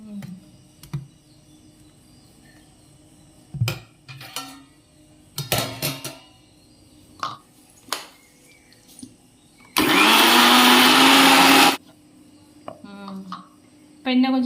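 An electric mixer grinder jar whirs loudly for about two seconds, grinding idli batter with a few black peppercorns for mudakkathan dosa. Scattered clinks and clatter of kitchen utensils come before and after the steady motor burst.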